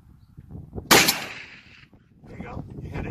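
A single Barrett .50 caliber rifle shot fired outdoors, a sharp loud blast with a long decaying rumble, followed by softer rustling and handling noise.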